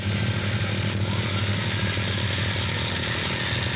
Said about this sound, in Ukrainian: бойова ремонтна евакуаційна машина